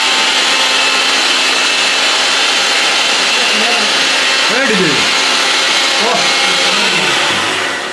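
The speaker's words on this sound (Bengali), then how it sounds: "বন্ধুরা ব্লেন্ডারে ব্লেন্ড করে নিলাম আমি তরমুজ তরমুজের জুস বানাবো" An electric blender whirs loudly while blending watermelon into juice, a dense continuous motor roar with faint pitch shifts as the load changes, running without pause to the end.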